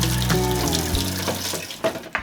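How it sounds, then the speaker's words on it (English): Disassembled parts of a Ninja Slushi frozen-drink machine are hand-washed under a running kitchen tap, with a loud, steady gush of water and small clunks as the pieces shift in the stream. "you can just disassemble it and wash this by hand"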